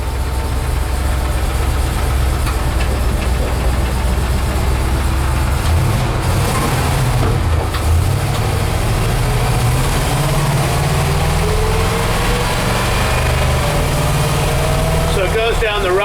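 A 1967 Toyota FJ45 with a V8 engine and B&M shifter runs on a test drive, its engine rumbling steadily with a low roar and a rising note near the end, heard from inside the vehicle.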